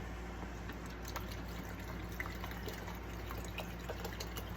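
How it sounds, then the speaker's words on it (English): Water poured into a bottle to keep a paint brush from drying out during a craft project, a steady trickling, gurgling flow with small splashy ticks, close and continuous. "Put some water in it."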